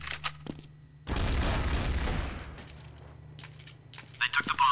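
Loud burst of gunfire in Counter-Strike: Source on the de_train bomb defusal map, a dense volley that fades over a couple of seconds, followed by sparse clicks and scattered shots.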